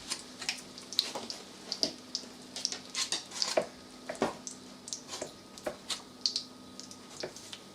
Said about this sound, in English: But we're going to let that fry